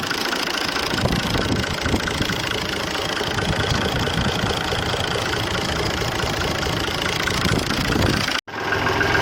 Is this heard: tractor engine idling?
yes